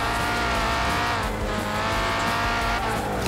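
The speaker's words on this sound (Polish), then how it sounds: "On na każdym zakręcie, zobaczcie, każdy zakręt driftem bierze." Cars drift through corners in Forza Horizon 3 multiplayer, with a loud, continuous engine roar layered with sustained tire squeal and skidding, close and unbroken throughout.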